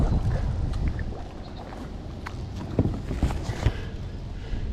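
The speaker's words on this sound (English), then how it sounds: "see how bad the wind is going to get, because it just picked up pretty good" Gusty wind blows across a local pond as the weather turns rough, a steady broad rush with low buffeting against the microphone, swelling in a few stronger gusts near the end, with no talking.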